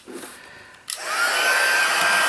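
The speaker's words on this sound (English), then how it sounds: "the heat tool does make a little bit of noise." Embossing heat tool switches on and blows hot air in a loud, steady roar with a faint whine, close by and with no talking.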